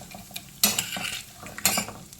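Raisins dropped into hot ghee crackle in two sharp bursts of sizzling, with soft stirring and the clink of a utensil against the pan between them, close and with no one speaking.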